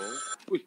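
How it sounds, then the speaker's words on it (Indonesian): A telephone rings inside a horror video game, a bright electronic trill heard briefly up close before a voice cuts in with a short exclamation. "Nah, bunyi telepon."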